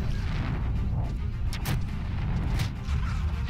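A fire spell cast in Final Fantasy XI, a deep, rumbling blast that roars continuously with crackling bursts near the middle. It is loud and sustained, with no voices.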